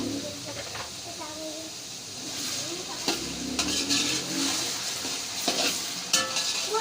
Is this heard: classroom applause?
no